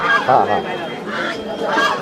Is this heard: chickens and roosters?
yes